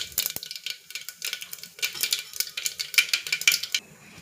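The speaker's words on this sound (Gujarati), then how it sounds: "હવે આપણી રાઈ તતડી ગઈ છે" Mustard seeds crackling and popping in hot oil in a pan while cooking a bottle gourd dish, a dense run of quick, close, sharp little pops and sizzle with no talk.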